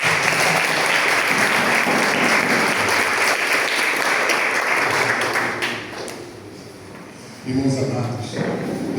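A church congregation applauds at an evening service with loud, sustained clapping from many hands. It fades out after about six seconds, and a voice then speaks.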